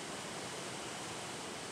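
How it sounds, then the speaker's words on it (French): Waterfalls and cascades along the Oirase river valley in northern Japan make a steady, even rush of water, soft and unbroken, with no voices. "Entrecoupée de chutes d'eau, de cascades, la rivière serpente ainsi sur 14 km jusqu'au lac Towada"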